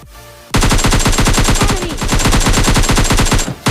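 Rapid automatic gunfire from the mobile battle royale game PUBG Mobile Lite, a loud sustained burst of evenly spaced shots lasting about three seconds after a short quieter lead-in, with no talking.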